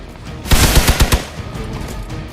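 Gunfire in Marvel's Midnight Suns, a quick burst of about six loud, close shots in rapid succession, followed by a fading echo and quieter ambience.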